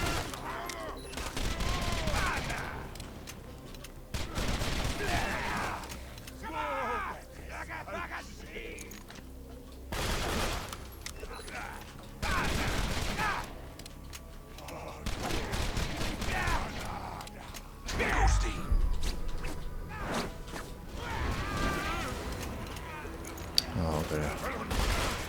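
Gunfire from the Grog Nozzle in Borderlands, bursts of shots and clattering impacts coming in repeated clusters amid a busy combat mix, with stretches of game sound between volleys.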